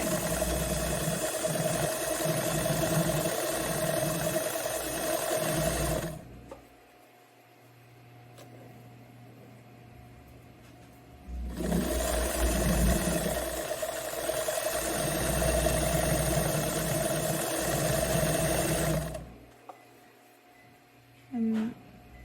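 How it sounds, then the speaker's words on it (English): A sewing machine stitches wide-leg pant fabric in two steady runs of motor hum and needle rattle, each lasting several seconds and separated by quiet pauses. "And I am sewing on the front side of the fabric."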